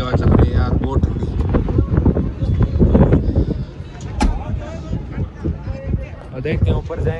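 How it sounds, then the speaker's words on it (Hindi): Cold mountain wind at Rohtang roars loudly and steadily across the microphone, a dense low rumble mixed with people talking close by. "बहुत ठंडी हवा चल रही है यार, बहुत ठंडी।"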